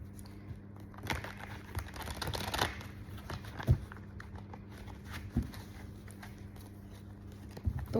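Tarot cards being shuffled and handled in a quiet room, soft papery riffles and crinkles running throughout with a few sharper taps and snaps, close and low in level, no talking.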